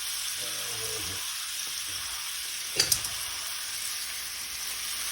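Sausage browns in a pan for a breakfast casserole, a steady bright sizzle throughout, with a short burst of scraping as it is broken up with a spatula midway.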